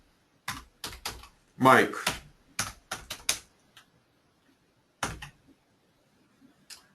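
Short bursts of keystrokes on a computer keyboard come in clusters, then pause, with one more brief flurry later, crisp and close in a quiet room. A single spoken word comes partway through.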